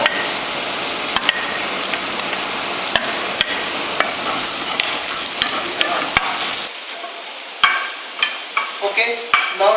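Garlic, onion, bay leaf and peppercorns fry loudly in a pan for tomato concasse, a continuous sizzle broken by sharp clinks and scrapes of stirring. Near the end the hiss drops and the utensil knocks stand out.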